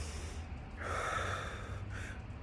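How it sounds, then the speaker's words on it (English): Deep breathing during a meditation exercise: a long, forceful inhale rushes through the nose, then a shorter breath follows, close and fairly loud with no talking. "we do the breathing to charge ourselves."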